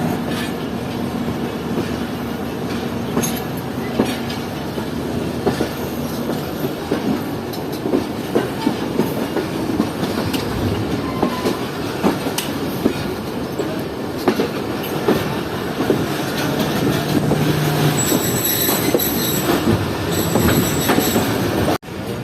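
A Shalimar Express train rolls steadily along the rails approaching Kotri Junction station, loud and close, wheels clacking rhythmically with occasional metallic squeals and no voices.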